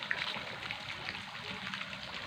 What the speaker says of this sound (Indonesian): sehingga menambah nuansa gemericik air, menambah kedamaian jika berada di pasar bunga asri